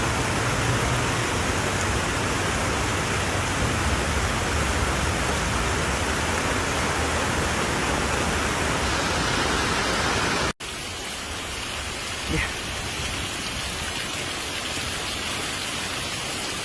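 Heavy rain during flash flooding in North Carolina, a dense continuous hiss of downpour that drops abruptly partway through to a slightly softer but still steady rainfall.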